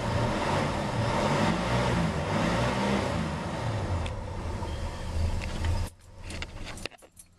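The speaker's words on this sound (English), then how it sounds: "That was a cold start." A car engine just after a cold start runs with a steady, close rumble, then cuts off abruptly, followed by keys jangling and a few clicks.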